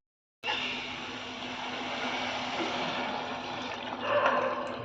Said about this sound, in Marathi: तर आता यामध्ये मी घालते गरम पाणी